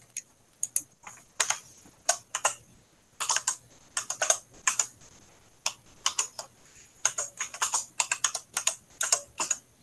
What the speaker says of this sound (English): I really love clicky keyboards.